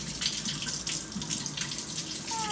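A kitchen tap runs in a steady, continuous rush of water into a sink while waiting for it to warm up during sourdough bread preparation, close and even throughout.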